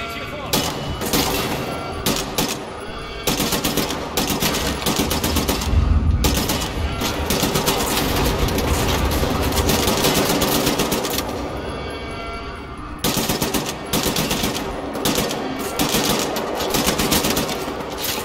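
Rapid automatic gunfire rattles in long bursts in the shooter game Wolfenstein: The New Order, with short gaps between volleys and a voice talking over the shooting.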